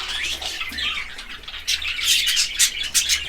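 A budgerigar lets out a run of sharp, close squawks and chirps, bursting repeatedly in quick irregular clusters, with a faint low hum underneath.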